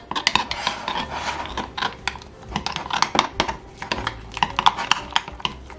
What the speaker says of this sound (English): And I'm going to stir this together.